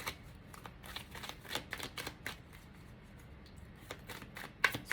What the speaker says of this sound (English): So let's find our shuffle.